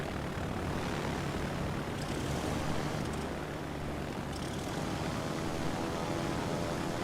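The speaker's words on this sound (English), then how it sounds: "I just take off in my torpedo bombers" Propeller torpedo bombers launch from an aircraft carrier in a naval battle video game, a steady broadband engine roar lasting throughout at constant loudness with no talk.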